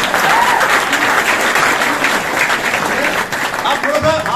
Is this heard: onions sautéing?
no